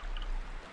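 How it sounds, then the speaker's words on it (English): Water drips into a pool in Myst Remastered, a short, soft, close trickle of watery patter with no voices. "So water running is 2 drops going into water."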